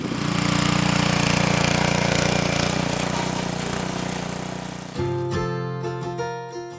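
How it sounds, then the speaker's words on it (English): A handheld rototiller engine drones loudly and steadily while tilling soil outdoors, then its note shifts to a rougher, pulsing idle near the end. "I'm going to be using a rototiller to get everything tilled up and ready for planting"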